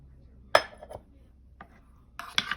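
A utensil stirs beaten eggs and cream into cooked vegetables in a pan, giving a few sharp clinks and scrapes against the metal. Quiet gaps separate the strokes.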